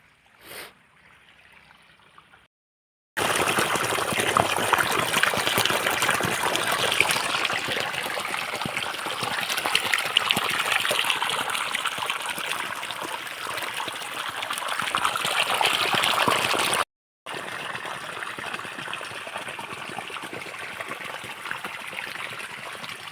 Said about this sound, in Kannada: ಸ್ಟಾರ್ಟ್ ಆಯಿತು ಕರೆಂಟ್ ಅದೇ ಹೆಂಗೋ ನೀರು ಬರ್ತಾವೆ